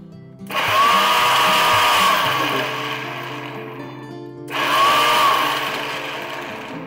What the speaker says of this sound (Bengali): আবার এটাকে ব্লেন্ড করে নিই, গুঁড়ো করে নেব।